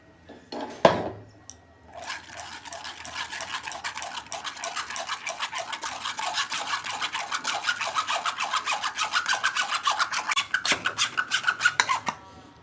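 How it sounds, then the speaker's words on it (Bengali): Mustard and green chili paste pushed through a sieve in a kitchen: a fast run of rhythmic rasping scrapes, close and fairly loud, after a sharp knock at the start, with no talking. "সর্ষে আর কাঁচা লঙ্কা আমি পেস্ট করে নিয়েছি, এটা আমি ছেঁকে নেব"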